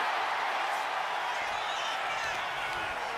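An arena crowd in the wrestling video game WWE 2K25 cheers in a dense, steady wash of noise that fills the whole stretch, under the faint voice of a commentator.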